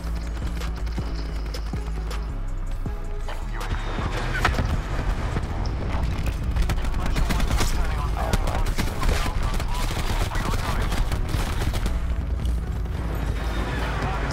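Suppressing gunfire in a video game rattles on continuously as a dense, loud barrage, with heavy bursts layered over low rumbling and horse hoof clatter throughout.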